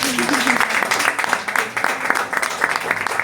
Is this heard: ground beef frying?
no